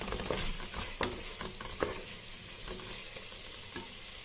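Vegetables, lemon juice, biryani masala, coriander and mint leaves being stirred in a sizzling pan, soft steady frying hiss with several distinct spatula scrapes and clicks, close and fairly quiet.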